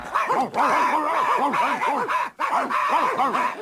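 Wolfdog character in an animated film barking and yipping in quick repeated bursts, close and fairly loud, with brief pauses between volleys and a whimpering edge.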